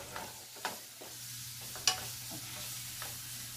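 Beef fajita meat frying in its own fat gives off a quiet steady sizzle, broken by a few sharp clicks and scrapes as a utensil stirs the pan, no talking.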